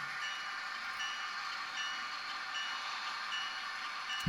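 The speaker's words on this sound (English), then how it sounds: "So we'll just let this train pass into view on our next camera and see how things go" A train passes on a camera feed, heard as a faint, steady hiss and rumble of rail movement at a distance, with no voices over it.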